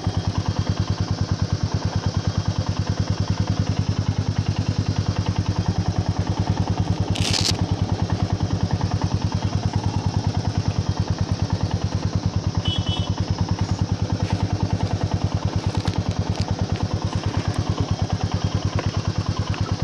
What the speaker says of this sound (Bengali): আমরা প্রায় রেডি বাইক নিয়ে এবার উঠবো ওপর দিকে